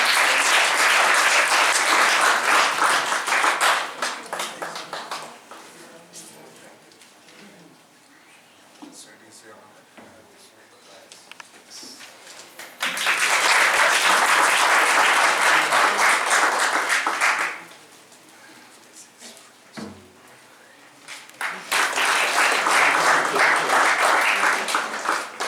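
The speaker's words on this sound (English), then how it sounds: "Give a big applause to sir." An audience at an academic keynote talk breaks into sustained loud applause in three separate bursts, each several seconds long, with quieter stretches and speech between them.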